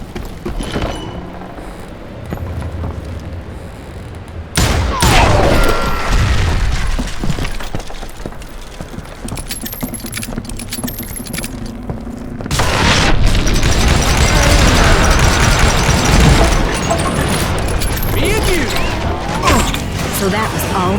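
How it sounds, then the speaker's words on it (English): Dynamite charges blowing up in the Western shooter Call of Juarez: Gunslinger, loud broadband blasts around five and thirteen seconds that leave a sustained rumble and debris clatter, with game music and effects layered over them. "Had to remove more of that damn dynamite"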